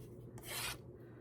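A single short rasping stroke of a scoring tool drawn across paper for treat boxes, soft and close, lasting under half a second against a quiet background.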